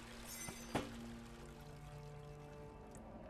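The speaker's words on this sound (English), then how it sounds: "I just clicked on that pipe and it pours water into it and then a key just rolls out." Water pours from a pipe in the horror game Amnesia: The Dark Descent, a short quiet splash and trickle that fades out within a few seconds, heard alone without talk.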